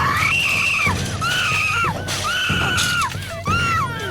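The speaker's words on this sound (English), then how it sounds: "Another negative that was specific to the dub was the screaming." Over-the-top screaming from voice actors in the English dub of the anime Red Garden, several loud, sustained high-pitched cries in quick succession over a dense dramatic background.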